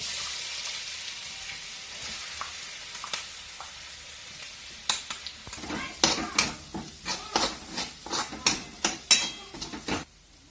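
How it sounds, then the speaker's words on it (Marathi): Cumin and ground masala paste frying in a pan, a steady broadband sizzle that grows into repeated loud scraping stir strokes in the second half, close by, with no talk. "जिरे टाकून आणि जिरे पण चांगले लाल करून घ्यायचे त्याच्यानंतर आपल्याला हा मसाला टाकायचा आहे"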